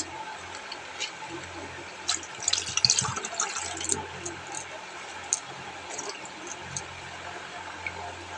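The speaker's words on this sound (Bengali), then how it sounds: "এবার একটু ভালো জলে ধুয়ে নিচ্ছি" Water splashing and trickling while a bottle is rinsed, a soft, continuous wash of sound with a busier burst of sloshing in the middle, heard close and fairly quiet, with no talking.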